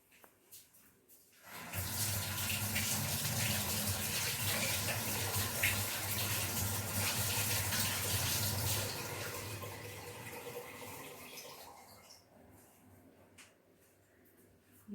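Hands being washed under a running kitchen tap, a steady gushing stream of water that starts abruptly, runs strongly for several seconds, then eases and stops, close and fairly loud with no talking.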